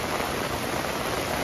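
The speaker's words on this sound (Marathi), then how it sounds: "मुसळधार पाऊस होतोय मलंगड मध्ये" Heavy monsoon downpour at the Malanggad waterfall, a dense, even hiss of rain and rushing water filling the whole moment without pause.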